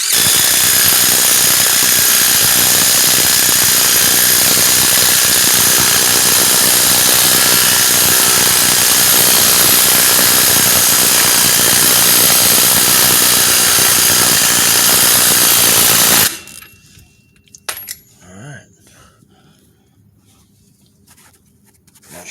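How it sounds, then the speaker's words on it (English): A power tool, most likely an impact wrench, runs loud and steady for about sixteen seconds on the crank bolt of a 1997–2008 Pontiac Grand Prix 3.8L 3800 V6, fitted with a 24mm socket, then cuts off abruptly, leaving a few faint clicks. "I'm just going to use my impact with the 24mm."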